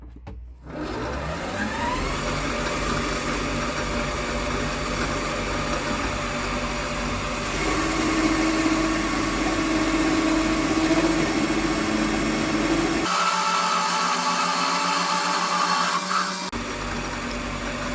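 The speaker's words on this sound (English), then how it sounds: "I'm going to bring you in and show you the mini lathe chipping." A mini lathe cuts a mandrel from off-cuts, throwing chips with a loud, steady motor hum and a rising tonal cutting whine, then a brief change in pitch before it settles back.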